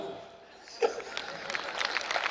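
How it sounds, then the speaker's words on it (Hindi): Audience clapping at a comedy poetry show, beginning after a quiet moment with a sharp sound and swelling into scattered then fuller applause, with some crowd chatter and laughter mixed in. "जितनी तेजी से पकड़ो उतनी तेजी से तालियां बजाना"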